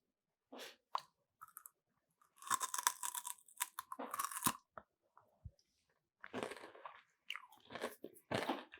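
Homemade keto chocolate crisps shaped in candy molds are bitten and chewed close up, with several sharp, crisp crunches followed by quieter chewing in near silence.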